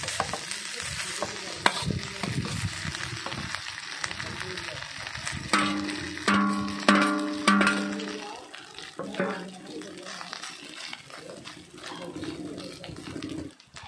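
Rice tossed and stirred in a pan of frying onion, curry leaves and cashews, with a steady sizzle, scraping spoon strokes and clinks close by, a few voices faintly in the background.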